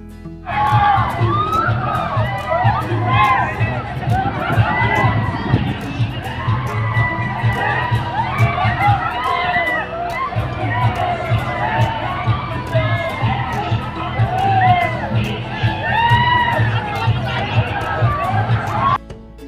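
Loud, sustained screaming from many riders on an amusement park ride at Wonderla Hyderabad, rising and falling in waves over a steady low mechanical rumble throughout.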